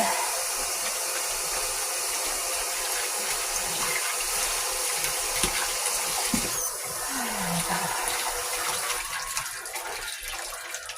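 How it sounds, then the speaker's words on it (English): Tap water runs steadily at close range over hands being washed after handling raw meat in a home kitchen, a continuous broad hiss with small splashing changes and no talking. "I always got to wash my hands a good couple times after dealing with that raw meat."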